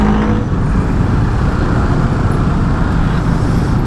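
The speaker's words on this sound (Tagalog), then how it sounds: "Grabe ang traffic ngayon" Steady road traffic noise, a loud continuous rumble of cars and heavier vehicles passing close by with no breaks.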